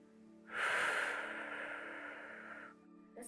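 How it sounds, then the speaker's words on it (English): One quiet, close breath drawn in deeply through the mouth and then released slowly, a soft airy rush that fades gradually, with another breath starting at the end. "Inhale deeply and exhale very slowly through your mouth."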